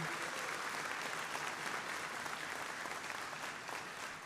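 Commencement ceremony audience at Westchester Community College applauding faculty and staff, a steady dense wash of crowd clapping filling the hall, sustained and even throughout.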